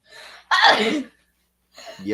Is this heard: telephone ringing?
no